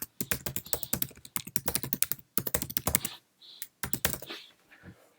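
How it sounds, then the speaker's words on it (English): Fast, close key clicks on a Mac desktop computer keyboard as an email address is entered, running in rapid bursts with brief pauses and a few isolated keystrokes at the end. "Let's type in the email address."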